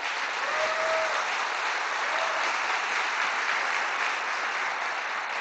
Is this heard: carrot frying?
no